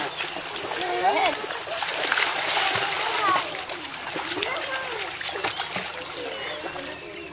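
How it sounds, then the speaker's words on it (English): A child splashes water on the top step of a swimming pool, with repeated close splashes and trickles under frequent encouraging adult talk. "You can splash there on the top step."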